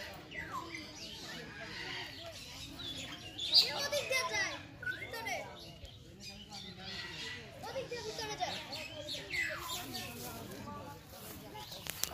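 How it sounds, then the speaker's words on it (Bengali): Birds chirp and squawk in bursts at Bangabandhu Safari Park, fairly faint and scattered, heard under people talking nearby, with children's voices in the background. "পাখির যেই ক্যাচুর ম্যাচুর যে আওয়াজগুলো সেগুলো শুনতে পাইতেছি"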